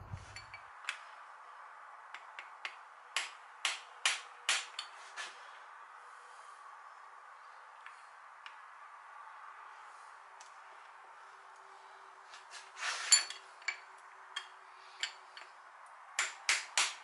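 A brass hammer taps a spider gear into a Ford 8.8 differential, with sharp metallic taps coming singly and in quick bursts of three or four, spaced across a quiet stretch, close and clear.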